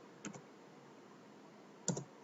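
Two crisp mouse clicks on a computer during a 3CX phone system webinar, faint and close, spaced well apart against a quiet background hiss.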